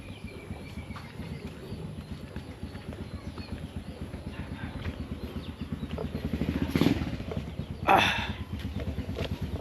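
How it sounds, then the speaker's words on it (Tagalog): A motorcycle under repair runs at idle with an even, rapid putter, joined by light clatter and two short louder bursts near the end, all fairly close. "May nag-ayos sa kanyang motor."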